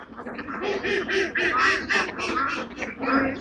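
A flock of farm ducks on a pond quacks continuously, with overlapping nasal calls close by and loud.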